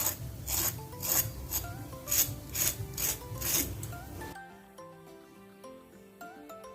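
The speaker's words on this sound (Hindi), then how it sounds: "और ये बहुत क्रिस्पी बने हैं, इनकी आवाज़ भी सुनिए आप।" Crisp, rasping crunches of crispy fried potato hash browns come in a quick series of bursts, close and fairly loud, then give way to quieter clicks and scraping.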